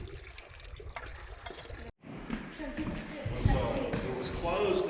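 Water runs and splashes steadily as it is collected from a spigot outside an RV, building after a brief gap, with people talking over it.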